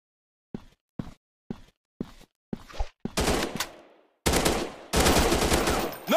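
Gunfire in the mobile shooter Cal Of Battle: five sharp single shots evenly spaced, then longer bursts of rapid automatic fire, loud and close with no talk.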